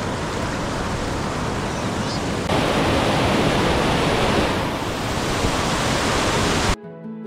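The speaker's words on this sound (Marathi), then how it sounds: "सुरुवातीलाच पायऱ्यांवरून वाहणारा सुंदर धबधबा पाहायला मिळतो." Lingmala waterfall near Mahabaleshwar pours over rock steps in a dense, steady roar that fills the whole scene without a break, then cuts off abruptly.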